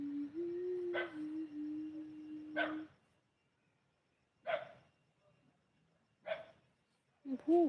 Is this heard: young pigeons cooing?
no